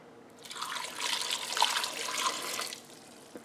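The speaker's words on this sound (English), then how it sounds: "And then we're going to add some water." Water pours steadily for a couple of seconds into an Instant Pot holding Yukon Gold potatoes, a close, bright splashing stream that starts and stops cleanly.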